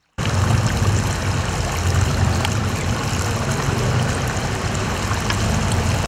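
Water gushes steadily from a burst municipal water main during repair work, a loud continuous broadband rush with a low rumbling undertone that holds without a break for about six seconds.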